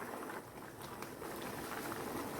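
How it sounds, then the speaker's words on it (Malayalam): Kerala payasam simmers gently in a pot on a low flame, a faint, steady bubbling hiss throughout with no talk. "ചെറിയ ഫ്ലെയിമിൽ നമുക്കിതൊന്ന് കുറച്ചും കൂടെ വറ്റിച്ചെടുക്കാം"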